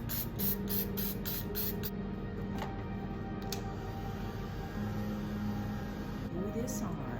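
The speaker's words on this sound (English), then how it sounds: "I'm gonna go ahead and spray some matte spray Mod Podge" Matte Mod Podge sealer hissing from an aerosol can in several short bursts over a steady background hum, close and fairly loud.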